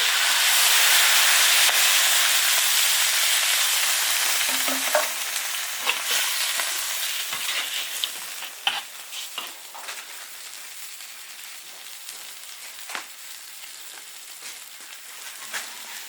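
Chicken stir-fries in a wok with a loud, hissing sizzle that steadily fades and thins out, while spatula scrapes and clacks strike repeatedly at an uneven pace.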